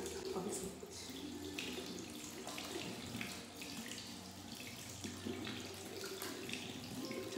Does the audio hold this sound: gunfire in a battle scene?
no